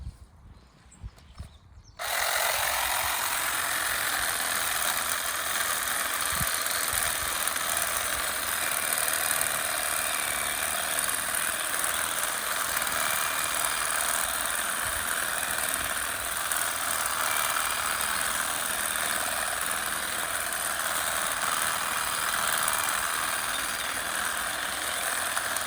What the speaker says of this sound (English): And I use a cordless hedge trimmer. This is a Ryobi one, which I find very good.